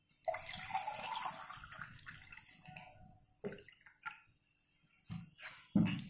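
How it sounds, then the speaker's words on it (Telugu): Ice water is poured into a mint sherbet summer drink: a close splashing pour lasts a few seconds, followed by a few faint drips and clinks, with no voices. "ఐస్ వాటర్ వేద్దాం."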